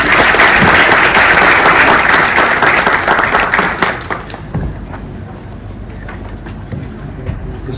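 Audience applause at a university lecture on AI: loud, dense clapping for several seconds that thins out and fades into scattered claps and room noise.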